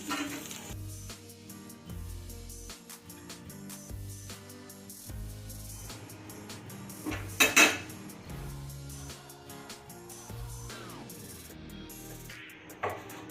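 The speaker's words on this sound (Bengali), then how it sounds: "কাজু আর কিশমিশ ভাজা হয়ে গেছে এবার আমি তেল থেকে এগুলো তুলে নিচ্ছি" Metal utensils clink and scrape against a pan in an uneven rhythm as fried cashews and raisins are lifted from ghee, with a louder clatter midway, close by and without talk.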